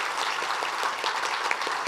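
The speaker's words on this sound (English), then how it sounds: "If we could give everybody a round of applause." Steady applause from the audience at a congressional candidate forum, dense, even clapping at moderate volume through the brief moment.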